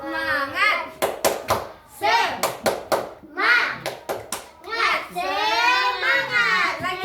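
Young children in a classroom perform a rhythmic clapping chant, sharp hand claps in quick clusters alternating with loud, sung-out children's voices.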